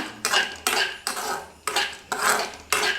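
Dry coconut roasting in a pan for a crunchy masala snack, with repeated scraping and stirring strokes against the metal, about six rhythmic bursts close by with no talking.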